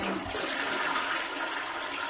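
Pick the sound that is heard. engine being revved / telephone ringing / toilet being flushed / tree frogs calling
toilet being flushed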